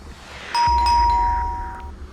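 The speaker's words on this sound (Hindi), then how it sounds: "घर की घंटी बजी।" A house doorbell rings once with a clear ding-dong, its bright tones hanging and fading for over a second above a low steady room hum, with no talking.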